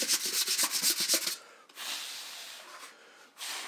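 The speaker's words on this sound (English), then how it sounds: "So I sand it down to the print lines." A sanding block rubs quickly back and forth over a 3D-printed Mandalorian part, a close, dry rasping rhythm that gives way to a steadier, softer scrubbing hiss.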